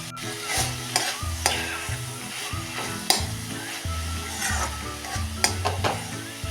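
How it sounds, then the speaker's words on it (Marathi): Grated carrot halwa is stirred in a pan with brisk, repeated scraping strokes over a continuous sizzle, close and fairly loud, with a steady tonal background beneath. "अजून थोडा वेळ हलवून घ्या"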